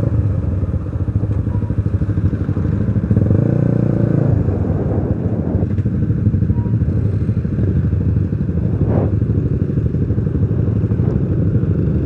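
A motorcycle engine rumbles steadily and loudly while riding, with clattering and occasional thumps from the road, no voices.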